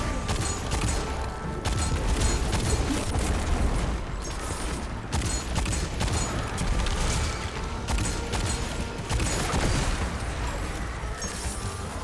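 Glowing-headed enemies in Destiny 2 bursting amid continuous loud combat, dense blasts and gunfire rolling together under game music with no clear pauses.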